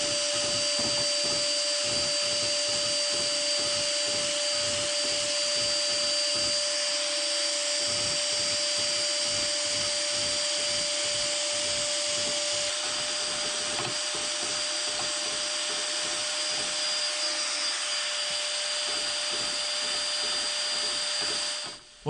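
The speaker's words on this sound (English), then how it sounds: "I'm going to rough scrape the entire surface of the straight edge also" Biax power scraper rough-scraping a 24-inch cast iron camelback straight edge, a loud continuous rapid chattering stroke with a steady whine, running alone for about twenty seconds before stopping.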